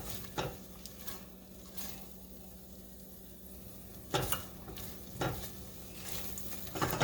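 Minced garlic sautéing in melted butter in a pan: a low, steady sizzle with a few soft scrapes and stirs of a utensil against the pan, fairly quiet and close, with no talking.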